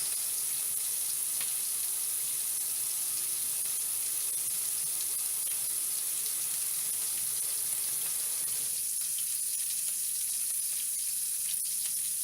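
Tap water runs steadily into a sink for hand washing in a kitchen where pork is being cooked, a loud continuous hiss with faint sizzling beneath it, close and unbroken throughout, with no talking.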